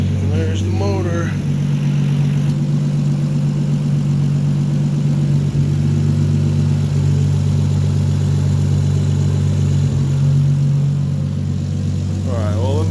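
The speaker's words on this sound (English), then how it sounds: "And there's the motor." A Nissan 350Z with a swapped Toyota 2JZ engine idles steadily after a cold start with a low, even rumble throughout, fairly loud and close, with a brief voice at the start and end.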